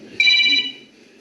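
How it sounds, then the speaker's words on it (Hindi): A phone rings with an incoming call. It is one loud, bright electronic tone burst that is close and clear, and then it drops to a faint tail. "जब मैं इसका फोन नहीं उठा रहा हूं तो क्यों फोन कर रही है?"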